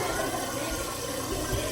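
Water pours steadily from a tap into a pot, a continuous broadband rushing and splashing at moderate level with no pauses.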